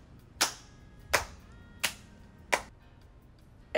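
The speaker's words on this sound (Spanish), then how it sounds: "Una mujer de cabello canoso aplaude." A gray-haired woman claps her hands in slow, separate, sharp claps, five in all, spaced evenly and heard alone with nothing in between.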